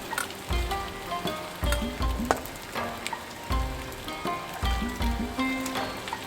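Pork chops frying over medium-high heat in a hot pan for Japanese ginger pork, giving a steady close sizzle with repeated low thuds and clatters of handling and utensils.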